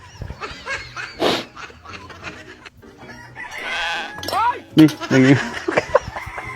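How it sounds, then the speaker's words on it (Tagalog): Chicken clucking and crowing in a comedic skit, with squawks and cackles heard under and between people talking. "nabuhay yung manok"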